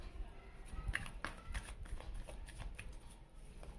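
Tarot cards shuffled and drawn during a Maha Shivratri reading, heard as a series of soft, close riffling and flicking bursts at an uneven rhythm over a quiet room.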